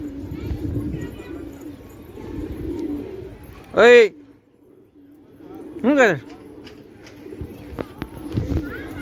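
Pigeons gathered in a flock give two distinct, rolling coos a couple of seconds apart, clear and close. People talk quietly in the background between the calls.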